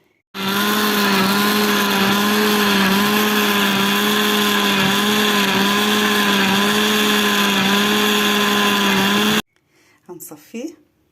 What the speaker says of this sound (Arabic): بعد كده هعمله في الخلاط